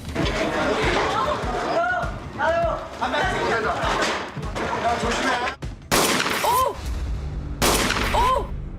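Sharp gunshots crack out amid busy background noise and voices at a 1988 Seoul hostage standoff, with a couple of loud, abrupt bangs standing out near the end.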